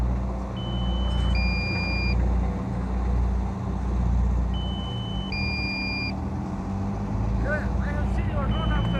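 Electronic beeps at a canal breach work site, a drilling rig on site, sound in two short repeating tonal sequences over steady machinery rumble, moderately loud and fairly near.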